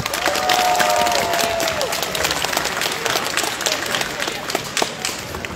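Applause from an audience at a cosplay contest during the Gliwice Fantasy Days, a dense wash of clapping that fills the whole stretch alongside a talking voice, with cheering here and there.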